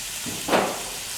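Garlic shrimp cooking in a pan, a short soft sizzle that swells briefly near the middle and fades back to a low hiss.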